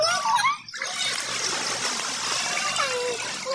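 Cold water flows and trickles steadily at a spot near Lonavala, close and fairly loud, with a brief voice near the start.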